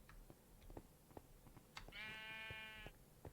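Sheep in Minecraft give a single drawn-out bleat of about a second, preceded and surrounded by faint, scattered clicking footsteps, quiet and without speech.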